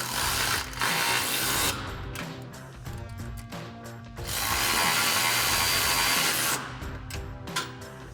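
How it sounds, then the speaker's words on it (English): A 10mm socket ratchet drives pinch weld bolts while a RedRock drop step running board goes onto a RAM 2500, giving close, loud bursts of rapid ratcheting clicks split by short pauses. "tighten down our 2 pinch weld bolts. So we'll need our 10mm socket and our 10mm wrench"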